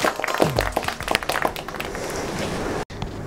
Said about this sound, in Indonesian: beri tepuk tangan yang meriah untuk Bapak Hendra